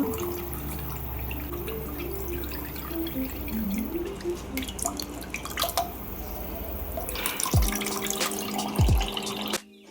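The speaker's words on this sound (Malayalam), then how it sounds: "ബാലൻസ് വന്നിരിക്കുന്ന തേങ്ങയിലേക്ക് കുറച്ചധികം വെള്ളം ഒഴിച്ച്" Water splashes and trickles steadily into a bowl of grated coconut, with dripping and pouring sounds close by, ending in a couple of louder sloshing pours.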